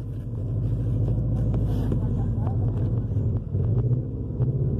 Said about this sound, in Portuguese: Acelera. Não tem RPM esse aqui, né? A aceleração tá normal.